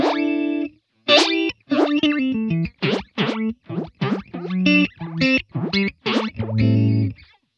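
Electric guitar notes and chords played through a sweeping Helix Dynamix flanger, the tone whooshing and modulating as short phrases ring out alone.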